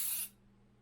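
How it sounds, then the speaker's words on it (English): A single short burst of Pam cooking spray hisses close by, lasting about a quarter second before cutting off to near silence. "now what I'm going to do is spray this. This happens to be Pam"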